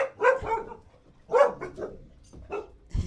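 Dogs bark up close in several sharp, separate bursts spaced about a second apart, with yelping, slightly whiny edges and quiet gaps between barks.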